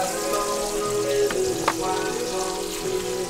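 A scramble of goat cheese and chicken sizzles steadily in a pan on a propane grill outdoors, a close, even frying hiss with a few brief scrapes and pops.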